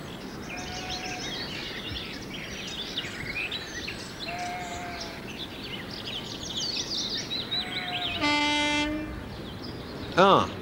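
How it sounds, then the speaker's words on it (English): A British Rail diesel multiple unit passes at a distance with a steady rail rumble, then sounds two short horn blasts near the end, with faint birdsong in the background. "the familiar cry of the lesser spotted DMU"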